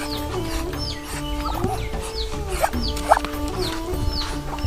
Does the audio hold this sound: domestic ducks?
yes